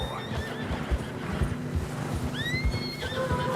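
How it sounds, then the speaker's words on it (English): Horses whinnying while trudging through snow in the video game Red Dead Redemption 2, a couple of sharp neighs over muffled hoof steps and a low rumble, close and brief. "Horses are struggling."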